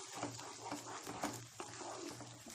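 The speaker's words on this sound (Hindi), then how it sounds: "प्याज को हमें अच्छे से भूनना होगा" Onion paste, ground from three to four large onions, sizzles and is stirred in a hot pan over high flame for a kofta curry, a steady close frying hiss broken by soft scraping strokes.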